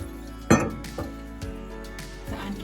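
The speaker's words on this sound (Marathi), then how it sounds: "आणि असं पॅक झाकण ठेवायचं" A metal lid goes onto a cooking pot of ridge gourd with one sharp clank, followed by a few lighter clinks and rattles as it settles, close and clear with no talk.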